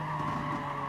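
A Superveloce Lamborghini Aventador in Gran Turismo Sport skids through a hillside right turn, its tires squealing in a steady, loud smear over the engine drone, with no pauses.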